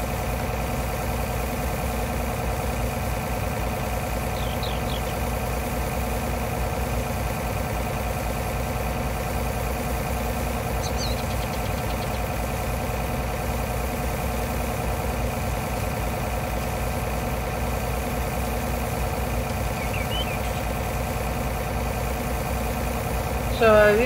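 A combine harvester's engine idles in Farming Simulator 19, a steady, continuous mid-to-low drone holding level for the whole stretch with faint high chirps over it and no talk.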